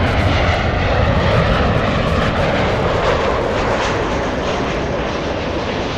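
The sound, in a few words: Southwest Airlines special livery plane taking off at LAX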